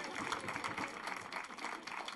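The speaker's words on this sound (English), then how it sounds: "Round of applause" A round of applause at a design lab workshop on women-owned businesses, a dense continuous patter of many hands clapping at moderate distance, fairly quiet throughout.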